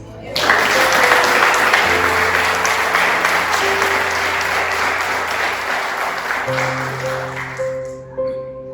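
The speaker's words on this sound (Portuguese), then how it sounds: "Você aplaudir Jesus." A church congregation applauds steadily at a celebration service, dense sustained clapping filling the room with sustained musical tones, likely keyboard notes, sounding underneath and changing pitch partway through.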